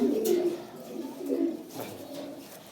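Fancy pigeons coo close by in a series of soft, low, rolling calls that rise and fade in repeated bursts, with no talking.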